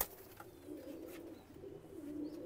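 A KTM pigeon in full moult, kept in a loft, gives a soft, low, steady cooing that runs faintly throughout with no talking.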